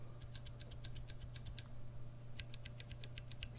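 Red linear mechanical keyboard switches struck in two quick bursts of sharp, close clacks with a short silent gap between them, over a faint steady hum.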